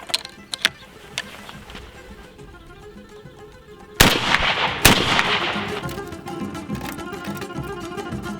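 A shotgun fires a reloaded Remington American hull loaded with 24 grains of Clays Universal powder and one ounce of shot, a loud sharp blast followed moments later by a second crack, with outdoor insect buzzing around it.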